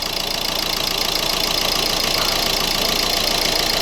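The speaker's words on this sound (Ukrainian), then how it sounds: "Запустили двигунець." A Renault Laguna 3 engine starting and then running at a steady idle, close and fairly loud, with a continuous rumbling drone and no talk.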